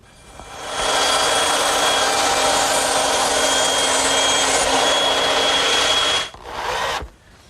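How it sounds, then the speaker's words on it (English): A bandsaw cuts for several seconds, trimming the ends of wooden tenons on furniture rails, a loud close whine that stops, briefly resumes, then winds down. "they're going to bump into one another unless I trim a little off at the bandsaw"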